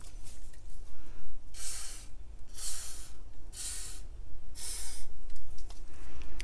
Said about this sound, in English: And I will spray my cups with the WD-40 silicone.